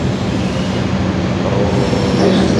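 Argo Parahyangan passenger train rolling past on rails, a steady loud rumble of wheels and carriages with faint squeal, continuous throughout and no talking.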